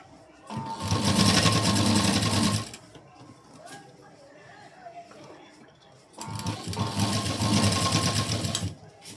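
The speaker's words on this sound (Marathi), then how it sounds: "इथे सुद्धा मी पहा अगदी खाचेमध्ये शिलाई घेते." Sewing machine stitching piping into a groove, two long bursts of rapid, steady needle clatter separated by a quieter pause with a voice talking.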